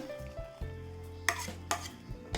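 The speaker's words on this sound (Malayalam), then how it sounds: "നന്നായിട്ടൊന്ന് ഇളക്കി കൊടുക്കാം" A spoon stirs curd into moru curry in a pot with the gas turned off, giving soft scraping and a few sharp metallic clinks over a low steady hum.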